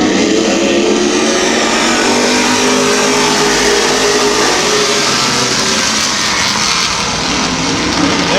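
Race cars roaring at Midvale Speedway, a dense, loud, continuous engine drone with rising revs as the pack accelerates back to speed after a crash.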